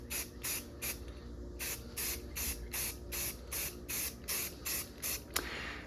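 A spray can lays a primer coat on the roof rack of a third-generation Toyota 4Runner in about a dozen short, evenly spaced hissing bursts. Each pass sounds close and crisp, with brief gaps between them.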